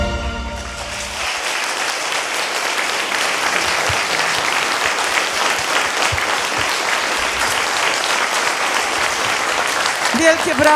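A large audience at a charity concert claps loudly and continuously, a thick sustained ovation filling the whole stretch with a few brighter individual claps near the end.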